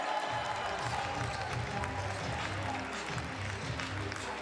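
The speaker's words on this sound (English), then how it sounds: "Now get ready for this cheer." A crowd in the Kaunas Sports Hall applauds and cheers during a player announcement at a basketball tournament final, a steady roar of clapping and voices that fills the arena without a break.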